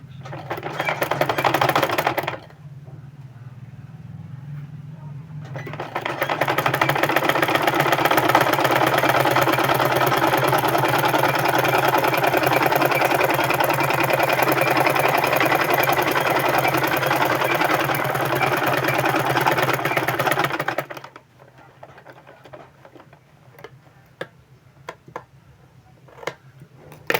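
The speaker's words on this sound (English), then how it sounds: "the next thing is you sew 1/4 inch, 1/4 of an inch." A sewing machine stitches a 1/4-inch seam on a cross pocket for men's pants, running in a steady, close mechanical whir for most of the span. It starts and stops briefly at the beginning, then falls silent near the end except for a few light ticks.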